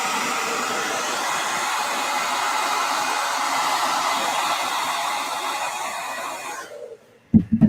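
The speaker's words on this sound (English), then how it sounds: "That's the blow dryer is like the essential, man" A handheld blow dryer runs loud and steady at close range for about seven seconds, then switches off, followed by a few brief knocks or handling sounds.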